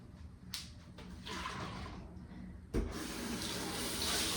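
Tap water runs steadily into a sink while an espresso machine is rinsed, starting around the middle and continuing with a brief clatter partway through, fairly close and moderately loud with no voices.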